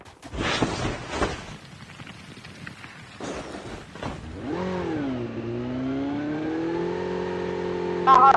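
A motorcycle engine in an online shooter game rises in pitch as it accelerates, then holds a steady whining drone, moderately loud after earlier game noise and bursts.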